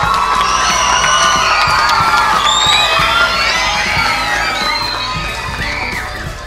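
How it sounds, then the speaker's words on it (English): An audience at a school speech day breaks into loud, sustained cheering and whooping with shouts over a broad crowd roar, gradually easing toward the end. "a big, big, hearty round of applause for them."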